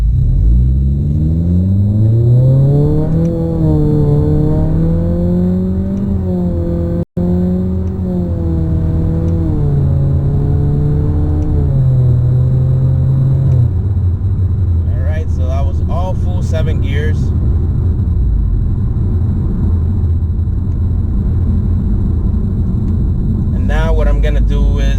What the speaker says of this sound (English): I'm gonna go ahead and try to give it a high rev on each gear so you guys can go ahead and hear it